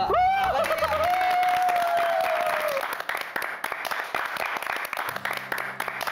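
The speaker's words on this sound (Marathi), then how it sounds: "टाळ्यांचा कसला आवाज येतोय?" A crowd claps steadily and loudly in an Indian TV comedy scene, sustained applause under a faint whistle-like tone, fading a little toward the end.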